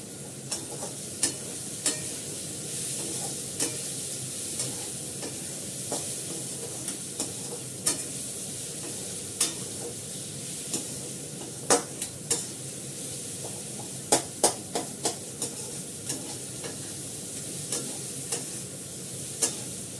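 Finely chopped onions sautéing in a pan, a steady sizzle with sharp scrapes and taps of the stirring utensil against the pan scattered irregularly throughout, close and without talk.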